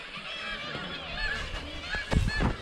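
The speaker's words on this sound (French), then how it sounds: "les oiseaux qui sont installés à toutes les fenêtres" Birds nesting in the windows of an abandoned town in Svalbard honk and call at middle distance, a few goose-like cries rising toward the end over faint background noise.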